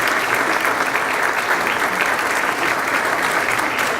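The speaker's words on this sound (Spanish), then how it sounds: "Yo quisiera nada más agradecerles un aplauso, por favor." Audience at a political debate applauding, a dense, even burst of clapping that holds steady and loud for several seconds with no voices on top.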